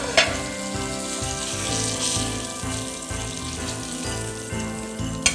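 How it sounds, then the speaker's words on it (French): Turkey escalope searing on one side in a hot frying pan, a steady close sizzle throughout with a couple of brief clinks. "je le mets dans la poêle. Et on va saisir qu'un côté"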